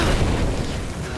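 Grenade explosion in Rise of the Tomb Raider: a loud, dense, roaring blast that fills the whole moment with sustained rumble and little decay, heard alone.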